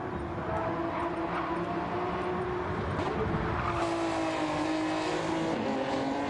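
Gran Turismo race cars roar through an online GTFusion 2023 lobby race, a steady wall of engine drone with harmonics climbing and shifting as cars accelerate and pass, with no talking.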